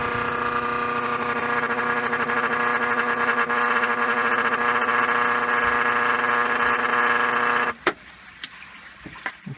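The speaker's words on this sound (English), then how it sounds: "the motor is spinning." The motor of a Whirlpool Estate washing machine spins with a steady droning hum and whine for several seconds, then stops abruptly, followed by a few sharp clicks and knocks.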